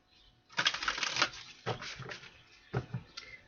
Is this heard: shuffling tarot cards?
yes